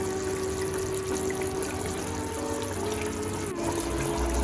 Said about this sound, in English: So I'm gonna put some more water.